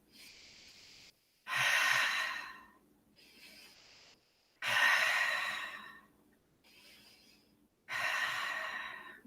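Deep breathing during a yoga plank: three long, loud inhale-exhale cycles close to the microphone, each a rushing breath that swells and fades, with brief quiet pauses between them.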